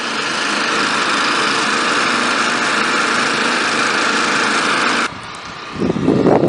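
Small engine-driven pump running steadily and loud while filling an 8 ft tall AquaDam at a wastewater treatment plant in El Dorado Hills, droning evenly, then cutting out abruptly near the end before a brief noisy rustle.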